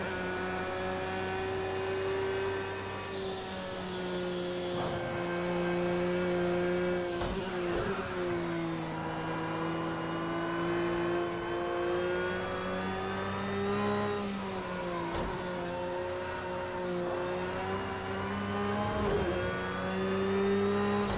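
A Porsche 911 GT3 R racing engine roars steadily through Project Cars 2 at the Nürburgring Nordschleife, holding a loud sustained tone with brief dips and rises in pitch as it shifts and accelerates between corners.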